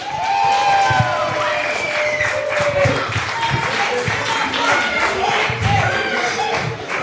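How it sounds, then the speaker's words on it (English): A wrestling crowd applauds and cheers for Rick Blade and Kid Legend, a dense, continuous wash of clapping with scattered shouts that stays loud throughout. "Clap it up one more time for Rick Blade, Kid Legend!"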